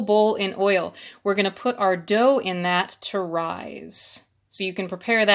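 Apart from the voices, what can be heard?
None of the usual background noises is heard.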